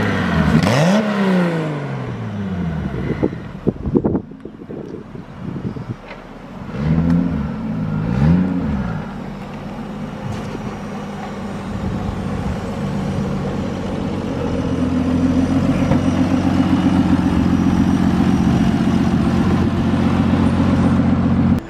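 A Honda Civic swapped with a 2JZ engine revs sharply several times, then settles into a loud, deep, lumpy idle, heard close up.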